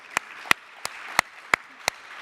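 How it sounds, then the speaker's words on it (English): Audience applause at a keynote panel session, heard as six separate sharp claps spaced roughly evenly, each crisp and isolated rather than a dense ovation, fairly quiet with no talk over them. "Let's give a round of applause."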